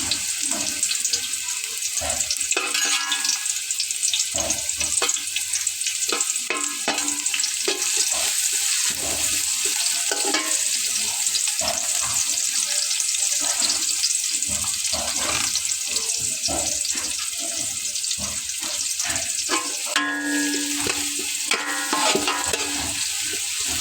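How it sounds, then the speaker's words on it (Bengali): Onions fry in hot oil with a steady, fairly quiet hiss and sizzle and the odd crackle, no voices over it. "এখন আমি এর ভেতরে পেঁয়াজটা ভেজে নেব।"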